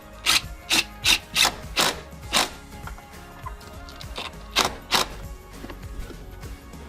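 Bolts on a Jeep Mopar sun bonnet are tightened with a ratchet, giving a series of close, sharp rasping clicks in short bursts, then quieter irregular clicks and rustling.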